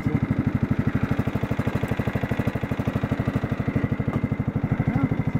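A Yard-King (Murray) lawn tractor engine idles low and steady up close, a continuous rhythmic chugging thump with a slight clatter, heard alone.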